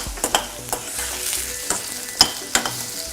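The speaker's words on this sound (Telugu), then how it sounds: "ఆనియన్స్ వేసేసాను, జస్ట్ ఫ్రై చేసుకున్నాం. చిల్లీ కూడా వేస్తున్నాను." Onions and chilli frying in a pan, a soft continuous sizzle broken by several sharp scraping and tapping strokes of a stirring spoon against the pan.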